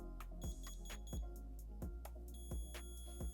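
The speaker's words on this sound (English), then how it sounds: "I got the Presidium diamond tester here, and all you got to do is just hear for the beep" A series of short electronic beeps from a Presidium diamond tester checking a chain, about six spaced irregularly over a few seconds, with steady background hum and clicks.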